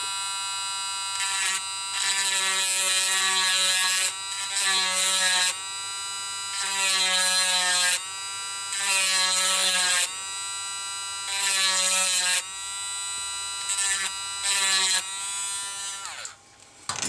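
A hobby rotary drill grinding the corner of an iPod Touch 4, a loud, close, high-pitched whine in repeated bursts of a second or two with short breaks between, steady in pitch, and no talking.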